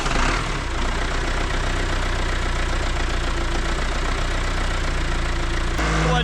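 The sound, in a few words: John Deere diesel engine cranking and idling after injection pump replacement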